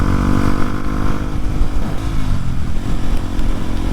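A Kawasaki KLX motorcycle accelerates under throttle, its engine buzzing loud and close with pulsing revs that rise and fall over a few seconds.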